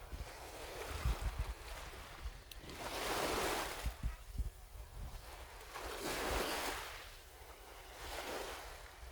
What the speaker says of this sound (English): looking at the water and hearing the sound of the waves